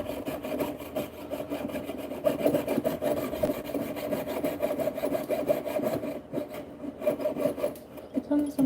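Jeweler's saw blade piercing a silver stamping, a steady rasping back-and-forth rub running throughout, close and fairly loud, with a slight drop in intensity near the end.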